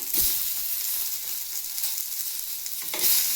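Tomato frying in oil for a North Karnataka chana dal sambar, a steady broadband sizzle with a stirring scrape near the start and another toward the end, close and fairly loud with no talk.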